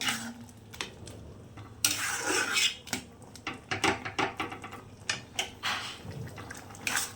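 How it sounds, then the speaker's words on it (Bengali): Poppy seed paste with ridge gourd and potato pieces gently stirred in a pan, giving a series of close, soft scraping and clinking strokes of a spoon against metal with short pauses between them. "এরপর হালকাভাবে পোস্তটাকে নেড়ে নিতে হবে"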